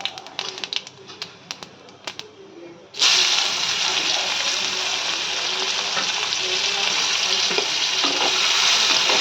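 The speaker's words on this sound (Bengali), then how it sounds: "পেঁয়াজটাকে একটু ভালো করে ভাজা ভাজা করবো" Chopped onion is dropped into hot oil already holding bay leaf and whole cumin, and a loud, steady sizzle of frying bursts in after a few quieter clicks and stirs, then carries on close and constant.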